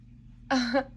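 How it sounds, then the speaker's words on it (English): A single short, tonal meow-like cry rises out of near silence, lasting about a third of a second, fairly close and clear. "You might be able to hear my precious little kitty in the background"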